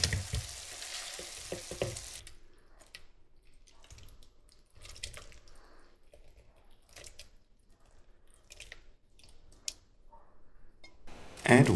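Tomatoes cooking in a frying pan give a soft, steady sizzle with faint crackles and occasional stirring scrapes, a louder burst of activity at the start and a sharp clatter at the end.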